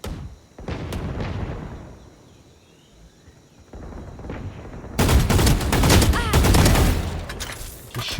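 Video game gunfire in a jungle setting: rapid bursts of shots and blasts, loud and continuous, growing denser and heavier toward the end.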